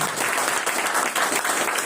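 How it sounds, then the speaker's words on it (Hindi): Loud, dense audience applause at a gathering, a crowd clapping vigorously and continuously for about two seconds with no voices rising above it. "मैं उनके लिए एक बार जोरदार तालियां चाहूंगा"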